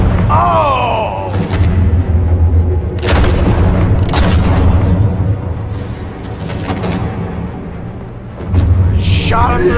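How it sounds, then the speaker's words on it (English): Gunfire in Batman: The Telltale Series, a loud booming shot among several sharp broadband bursts over a dense game soundtrack, with a voice heard early on. "Shot him through his face."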